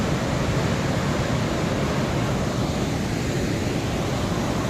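Roaring mountain stream on the Kheerganga trek near Nakhthan, water crashing over huge rocks, a steady, dense, loud rush that fills the whole clip without letup, close and overpowering, with no voices.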